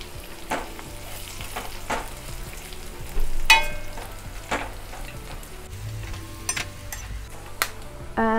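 Curry leaves dropped into hot oil with golden brown fried onions for a South Indian Chicken Chettinad, giving a steady close sizzle with stirring clatter and a louder burst of crackling partway through.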